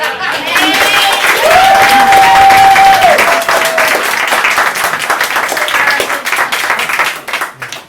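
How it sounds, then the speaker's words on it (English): A warm round of clapping fills the room at an open-mic poetry night, marking a birthday, loud and steady with a voice carrying over it before the applause thins out. "let's give him a warm round of applause for his birthday"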